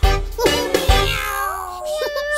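Kittens in a children's cartoon meow in a quick run of short, rising and falling calls, close and clear, over a low musical backing.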